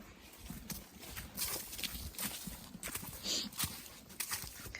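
Horse hooves clip-clopping at a walk on a 40-acre property, a rhythmic series of soft, moderately near footfalls under light outdoor noise, with no talk.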